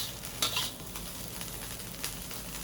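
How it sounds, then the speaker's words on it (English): Rice stir-frying in a wok for a spicy Guizhou fried rice, giving a steady soft sizzle with a few light pops and scrapes, faint and close with no talking. "fry that for about 3 minutes or until you have clear separate grains and you can hear some really light popping"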